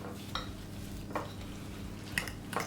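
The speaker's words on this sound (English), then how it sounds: "Whisk it all together." A whisk stirs dry muffin ingredients, oats with sifted baking powder, in a bowl: quiet, close scraping strokes recur in a loose rhythm over a soft steady background hum.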